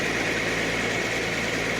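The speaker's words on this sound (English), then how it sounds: "See how steady the engine is." A restored 1971 Datsun 240Z engine idles steadily with an even, constant low rumble and no variation in level, close and alone without voices.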